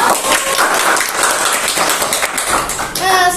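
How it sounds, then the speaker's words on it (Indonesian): A group claps for a first-place competition medal winner, dense and fairly loud throughout, with a voice briefly breaking in at the end. "Oke, tepuk tangan dong."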